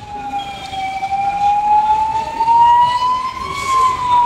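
An ambulance siren wails loud and near amid a crowd at a Ganesh immersion procession at Tank Bund, one long steady tone rising gently in pitch.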